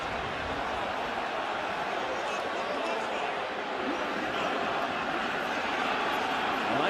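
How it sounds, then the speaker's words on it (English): A football stadium crowd at a CFL game between the Montreal Alouettes and Ottawa REDBLACKS makes a steady, broad roar of booing that continues throughout. "they're booing"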